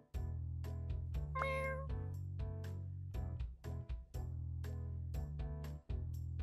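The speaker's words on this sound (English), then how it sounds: "There's a cat!" A cat in a video game meows over and over, close and clear, with short pauses between the calls and one longer, higher cry near the start, all without any talking.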